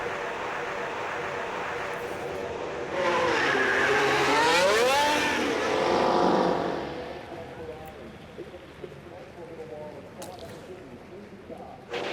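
A Formula 1 car engine in the video game F1 Manager 24 revs and swells loudly, tires squealing as it rushes past on track, then fades to a distant drone.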